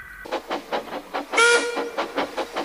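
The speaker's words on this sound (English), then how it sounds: "You should see how terrible Adam shunting is" A model train shunting in a railway scene, giving rhythmic clickety-clack beats with a short whistle-like hiss in the middle, fairly close and without speech.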